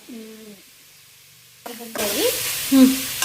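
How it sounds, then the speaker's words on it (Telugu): Grated beetroot frying in ghee in a pan for beetroot halwa. A loud, steady sizzling hiss starts partway through and keeps going up close, with a voice briefly heard before and over it. "తురిమిన బీట్రూట్ నెయ్యిలో ఫ్రై"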